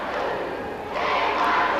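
A wrestling arena crowd at an ECW event rumbles and jeers in frustration at Hunter Q. Robbins, a dense continuous roar that swells louder partway through.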